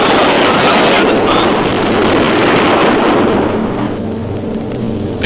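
B-17 bomber in aerial combat over WWII skies, a loud continuous roar of engines and rumbling blasts filling the air, with radio chatter from the crew over it.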